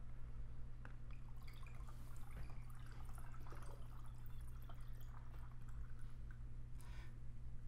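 Sugar water syrup pours into lemon juice while homemade natural soda is mixed, a soft steady trickle with scattered drips over a constant low hum, faint and continuous with no talking.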